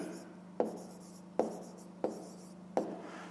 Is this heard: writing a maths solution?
yes